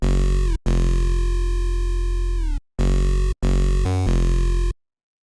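Default synth bass preset in an electronic music production project: loud, buzzy, sustained bass notes with a brief pitch dip, broken by short gaps and a stuttering burst before cutting to silence.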